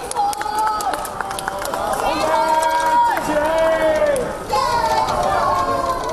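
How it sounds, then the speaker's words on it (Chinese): A waiting crowd in an airport arrival hall cheers and claps as a swimmer and teammates walk out, with excited voices, shouting and a hubbub of talk filling the hall continuously. "女飞鱼何思培同其他队友行出接机大堂，有在场等候的市民欢呼拍手"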